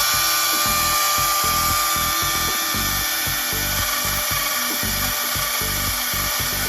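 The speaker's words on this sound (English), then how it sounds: "It's just me on this ladder with this chainsaw." A chainsaw runs continuously while cutting a tree branch from a ladder, a loud, steady high whine with a rough, pulsing low rumble as the chain bites through the wood.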